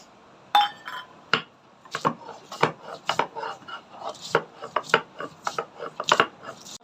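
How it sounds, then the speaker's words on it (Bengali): Green chillies, garlic and ginger are ground together into a spice paste, with a run of sharp, close, irregular knocks and scraping rubs repeating steadily and no talk. "দুইটা কাঁচামরিচ রসুন আর আদা একসাথে বাইটা নেব"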